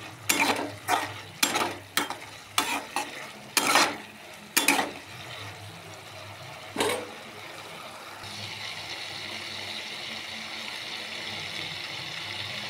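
Mourala fish in mustard poppy paste stirred in a pan, a handful of sharp scraping clanks over the first seconds, then a steady soft sizzle carrying on alone.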